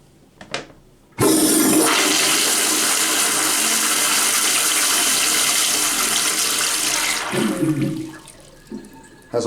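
A pressure-assisted American Standard toilet in a hotel bathroom flushes with a sudden loud whoosh that holds steady for several seconds, then tapers off into trickling refill water.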